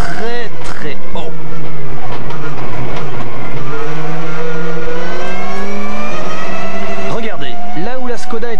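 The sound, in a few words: Skoda rally car sliding on a rally stage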